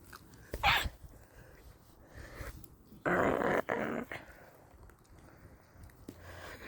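A puppy growls and chews, with low, soft rumbling growls and gnawing, snuffling sounds close by, punctuated by a few louder rustling bursts at fairly quiet overall level.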